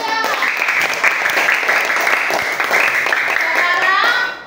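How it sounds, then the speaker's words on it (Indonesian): Primary school pupils in a classroom clap together for a classmate named Zaskia, a dense, steady burst of applause lasting about four seconds, with children's voices chattering underneath. "Oke, tepuk tangan dulu untuk Zaskia."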